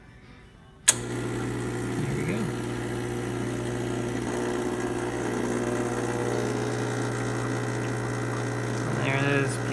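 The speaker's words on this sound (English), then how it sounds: "now we're going to test and brew a shot" Quickmill Silvano espresso machine with a delayed brew pressure fault, brewing a shot: an abrupt click, then a steady loud pump hum that holds throughout, with faint voices briefly audible.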